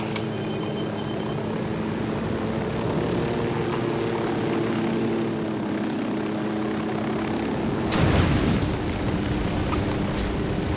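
Helicopter in the Ghost Recon Wildlands video game, a continuous loud rotor and engine drone with steady low thrumming, swelling briefly louder with a burst of noise near the end.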